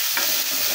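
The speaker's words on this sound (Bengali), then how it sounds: "আলু কেটে রেখেছিলাম, সেগুলো একটু ভেজে নেব।" Cut potatoes fry in a pan of oil for a broiler chicken curry, giving a brief, close, steady sizzling hiss with no voices.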